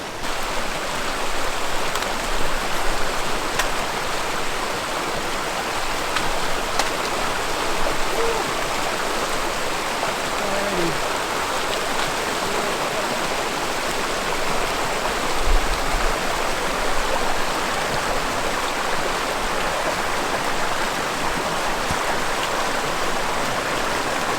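Mountain stream running over icy rocks in freezing cold, a steady loud rushing wash of water that fills the whole stretch with no voices.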